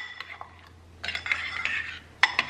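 A spoon scrapes and clinks around a bowl while ingredients are stirred together, in short irregular bursts with quiet gaps between, fairly close and soft.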